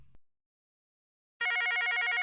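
A Mitel 5360 IP desk phone rings in a steady electronic warble, starting abruptly after a brief thump and near-silence, loud and close with no talk.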